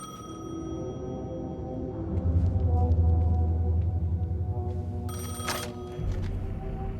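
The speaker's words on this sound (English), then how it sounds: "The payphone was ringing." A payphone rings in the video game Alan Wake 2, a faint high electronic ring at a railway station over a low droning rumble of background ambience, with a brighter burst near the end.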